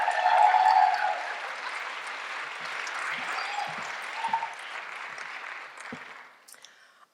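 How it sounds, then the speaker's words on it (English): A small audience at a speaking event gives steady, moderate applause that swells at the start, holds as a soft wash of clapping and fades toward the end. "give a big round of applause for Sherisse."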